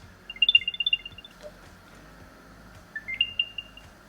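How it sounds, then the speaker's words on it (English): An Apple AirTag, freshly activated after its pull tab is removed, plays two quick rising sequences of bright, clear electronic chirps close by, separated by a short quiet gap. "I like to hear the little chirpy sound that it's making"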